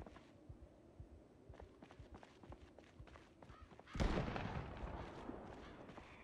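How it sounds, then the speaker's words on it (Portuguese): A single gunshot in the zombie survival game Project Zomboid bursts out sharply partway through and trails off into a rumbling decay, after a stretch of soft, irregular thumping footsteps. "Beleza, um tiro. Só pra puxar os zumbis pro meu lado"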